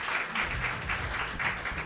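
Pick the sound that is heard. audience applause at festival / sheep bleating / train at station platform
audience applause at festival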